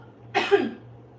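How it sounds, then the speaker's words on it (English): A single sharp cough, close and fairly loud, with a brief rough tail, then quiet. "Oh my god, I'm gonna cough."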